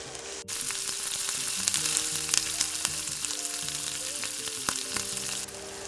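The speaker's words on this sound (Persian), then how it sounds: "پیازامون که به این حد از طلایی شدن رسید" Sliced onions fry to golden in a pan for Iranian macaroni, a dense continuous sizzle with scattered pops and crackles, close and steady throughout with no talking.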